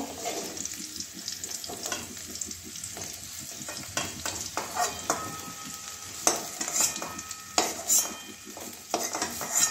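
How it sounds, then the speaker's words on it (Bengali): Potatoes frying in oil in a pan for a soybean curry with okra. There is a steady sizzle throughout, with scattered clinks and scrapes as they are stirred, and no one speaks. "আলুটাও এরকম লাল লাল করে ভেজে নেব"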